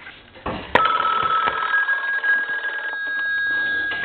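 An ITT rotary desk telephone bell rings continuously with a bright metallic trill, starting abruptly and sustaining steadily, fairly loud and close.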